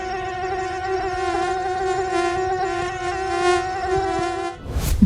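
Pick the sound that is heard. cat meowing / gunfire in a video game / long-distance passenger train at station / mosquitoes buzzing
mosquitoes buzzing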